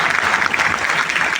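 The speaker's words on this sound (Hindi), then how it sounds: "एक बार उनके लिए तालियां बजाएं।" Audience at a Hindi kavi sammelan poetry gathering at DTU breaks into dense, steady applause, many hands clapping together in a sustained wash for about a second and a half.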